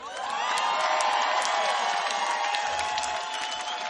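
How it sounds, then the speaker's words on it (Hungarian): A live comedy show audience applauds and cheers loudly and steadily, with dense clapping, scattered whoops and shouts filling the whole stretch without pause. "Köszönjük a nagy tapsot!"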